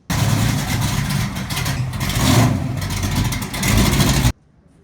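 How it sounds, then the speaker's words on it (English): A 1967 Ford Mustang's engine runs loud and close, a steady rumbling drone that swells slightly before cutting off abruptly near the end. "the Mustang moves under its own power"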